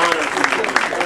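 An audience applauds loudly for a visiting doctor at a talk, a short burst of dense clapping.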